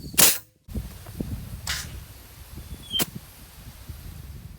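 A sharp, loud burst of compressed air from a homemade airsoft air cannon, followed a moment later by two fainter pops and thuds in an open outdoor space.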